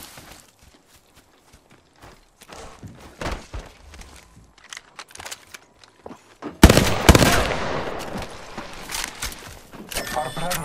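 Gunfire in Apex Legends comes in sporadic shots that give way to a loud, dense burst of rapid firing and impacts midway, with footsteps and a voice speaking over the fight.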